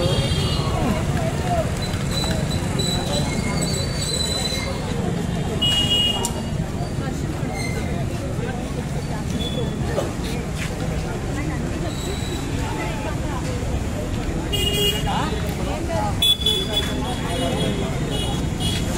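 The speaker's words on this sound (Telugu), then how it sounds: "సో ఇక్కడ మనకి ట్రాఫిక్ జామ్ కట్టలు కూడా చాలా ఉన్నాయి చూడండి" A busy street jammed with traffic near the Khairatabad Ganesha idol making site: a dense, continuous roar of engines and crowd noise with scattered horn toots, while a person talks over it.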